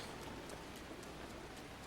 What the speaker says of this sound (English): Now it's raining real bad.